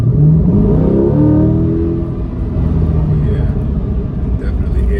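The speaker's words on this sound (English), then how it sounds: "Yeah, definitely hear that engine." A 2020 Chevrolet Corvette Stingray engine revs at full throttle in track mode, a loud, steady rising roar that fills the cabin, with a voice talking over it.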